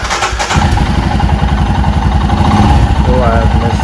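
A Honda Civic engine cranks briefly, catches and settles into a steady, loud idle close by, running on alone for several seconds after starting.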